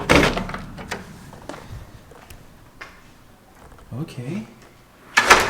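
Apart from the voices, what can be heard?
big black front door opening and closing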